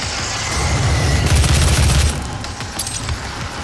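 Heavy booming blasts from the double-barrelled super shotgun in the video game Doom, loud and dense with rumbling low end, with a burst of shots in the first two seconds and lighter impacts after.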